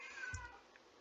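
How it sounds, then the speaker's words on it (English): A house cat meows once, fairly faint and close, a single short cry over quiet room tone with a soft thump at the start. "No, that's my cat."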